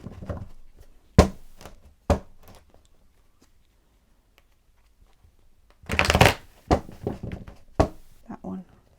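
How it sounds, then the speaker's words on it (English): Tarot cards are shuffled by hand in crisp, close riffling bursts, two short bursts early, then a longer flurry of rapid snaps with quiet gaps between. "I'm just going to do a bit of a big girl shuffle here to free up the cards for you"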